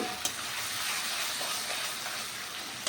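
Jackfruit and prawn curry with ginger-garlic paste cooks in a frying pan, giving a soft, steady sizzle and hiss with a few faint stirring clicks, quiet and without voices.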